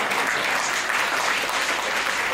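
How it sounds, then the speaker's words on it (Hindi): Audience applause at a Hindi comedy poetry gathering, a full, steady wash of many hands clapping together for a couple of seconds with no voices over it. "बात दिल तक पहुंची हो तो तालियां बजना चाहिए"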